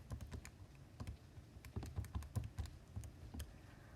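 Fingers tap quickly on a calculator or computer keyboard in a quiet room, a soft, irregular run of close clicks and keypresses with no talk.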